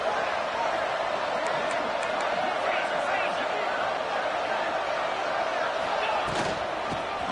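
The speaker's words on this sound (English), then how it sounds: "This crowd is trying to inspire this defense to make a big red zone stop." A football stadium crowd at a USC vs Oregon game roars as one dense, sustained wash of noise during a red zone defensive stand, loud and constant with faint scattered cheers and claps.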